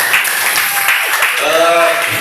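An audience at a public discussion at a university claps in a continuous, loud burst, with a voice rising over the applause toward the end.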